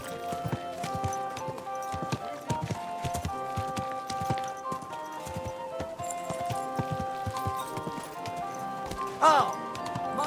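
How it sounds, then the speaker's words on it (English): Horse hooves clip-clop steadily at a walking pace in the video game Kingdom Come Deliverance 2, mixed with background music and brief voices, with a short louder whinny-like burst near the end. "Easy, good horse."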